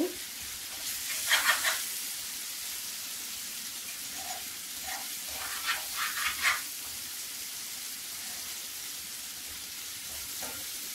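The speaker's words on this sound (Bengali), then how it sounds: "নেড়ে ছেড়ে টমেটো ভালো করে সিদ্ধ করে নেব" Tomatoes sizzle in a hot pan while being stirred to soften for a spinach-and-tomato mash, a continuous frying hiss broken by bursts of scraping and stirring close by.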